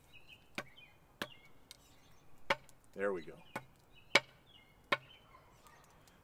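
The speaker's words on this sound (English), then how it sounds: "That is not a normal sound of a properly hung axe." Sharp axe strikes from a loosely hung head land at uneven intervals of about a second, each with a bright ringing clack. Brief speech breaks in midway, and quiet outdoor ambience fills the gaps.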